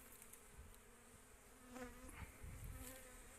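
A steady buzzing of many honeybees entering a hive close by, a dense continuous hum with individual insects swelling louder as they pass near.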